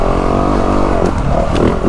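A 2023 Yamaha YZ450F dirt bike on a woods trail, its engine running loud and close with a steady throbbing drone that rises slightly in revs toward the end.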